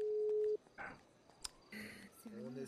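A phone call placed in the GTA roleplay game gives one steady electronic tone lasting about half a second, followed by softer beeps and clicks, with a voice speaking briefly afterward.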